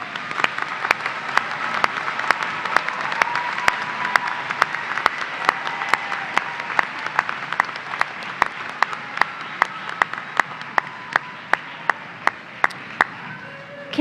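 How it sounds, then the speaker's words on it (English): Audience applause for graduates at a university commencement ceremony, a steady wash of many hands clapping with sharp individual claps ringing out near the front, holding through the whole passage and slowly thinning toward the end. "please join me in a round of applause in recognition of the special level of accomplishment of these graduates"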